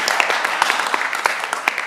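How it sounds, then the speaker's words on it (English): Audience applause at a 2021 benefit concert: a dense, steady patter of many hands clapping, moderately loud and continuous throughout the short stretch, with no voices standing out. "Give yourselves a round of applause."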